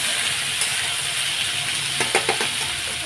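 Potatoes, onion and chili frying in an oil-filled pan, a loud, steady close-up sizzle with a few brief scraping clicks near the end as the pan is stirred, no talk.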